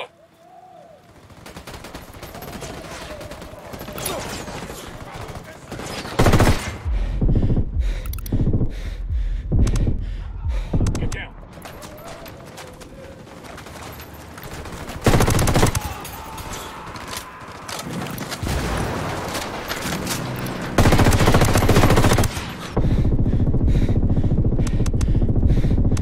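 Gunfire in the video game Ghost Recon Wildlands, with loud single shots, rapid automatic bursts and booming blasts scattered across the scene and growing denser toward the end.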